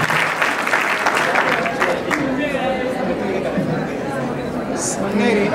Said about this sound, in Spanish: ¡Aplausos para ella!